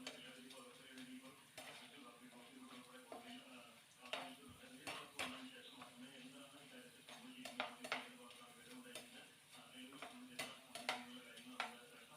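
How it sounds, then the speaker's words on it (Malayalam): Papaya fry being stirred in a pan over a low flame, with a spoon scraping and clinking against the metal at an irregular pace over a soft continuous sizzle and steady kitchen hum, close and moderately quiet. "ലോ ഫ്ലെയിമിൽ വെച്ചിട്ട് നമുക്കിങ്ങനെ ഇളക്കി എടുക്കണം."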